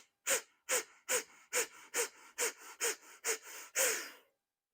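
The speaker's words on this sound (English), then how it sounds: "take that deep breath. Another deep breath." Ten deep, rhythmic breaths during a yoga breathing exercise, each a forceful close inhale-exhale roughly half a second apart, with the final breath longer and stronger.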